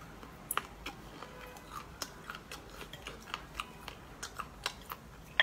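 Homemade octopus legs being chewed, tough and rubbery, giving a string of soft, close crunchy bites and squishes at an irregular pace, quiet with no speech.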